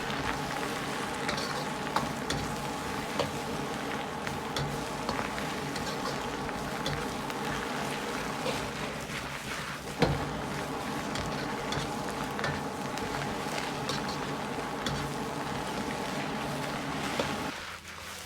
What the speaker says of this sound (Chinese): 保持大火翻炒大概2分钟左右